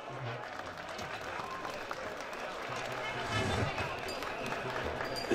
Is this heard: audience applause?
yes